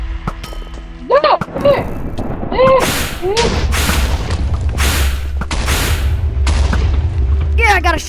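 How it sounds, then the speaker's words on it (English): Minecraft wither attack: a rapid string of loud booming explosions mixed with game sound effects, with excited voices talking over the blasts. "there's a wither attacking"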